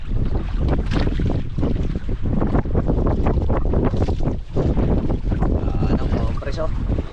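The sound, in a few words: strong wind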